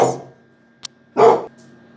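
A small pet dog barks indoors: a brief sharp yip, then one louder, fuller bark a moment later, with no talking around it.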